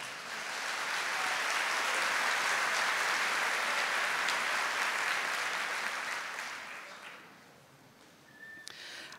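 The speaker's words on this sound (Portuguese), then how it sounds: "Aplauda essa palavra." A church congregation applauds at a service, a dense sustained wash of clapping that swells, holds for several seconds, then fades away.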